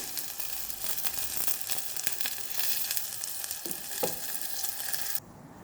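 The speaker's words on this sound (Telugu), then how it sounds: "పోపు చేసుకుంటున్నా అండి కాసింత ఇంగు వేసుకుంటున్నా అండి" Asafoetida and tempering spices sizzle in hot oil for sambar, a steady close crackling hiss that runs unbroken and then drops off sharply near the end. No one speaks.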